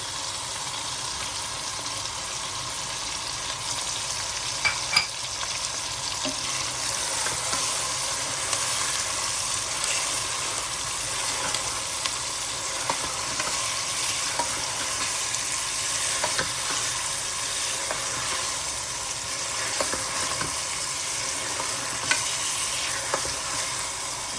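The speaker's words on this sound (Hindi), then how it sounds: "अब इसमें डालेंगे अदरक लहसुन का पेस्ट" Ginger garlic paste fries in a hot pan for an aloo gosht mutton and potato curry, a steady close sizzle with occasional clicks and stirring scrapes throughout, no voices.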